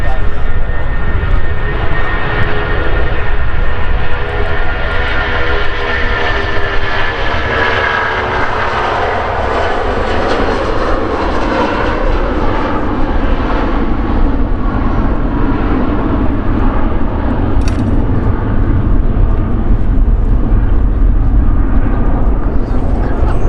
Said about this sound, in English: To our left, Boeing 737-800 belonging to TUI, and that's on its way to Antalya